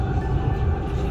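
A Dubai Metro train heading toward Centrepoint rumbles along the track with a steady low mechanical roar, heard from inside the carriage as a continuous, fairly loud drone.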